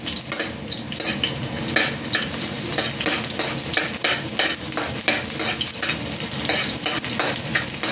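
Garlic and onion sauté in a hot pan, a constant close sizzle broken by repeated scraping stirs of a utensil against the metal, with no talk over it.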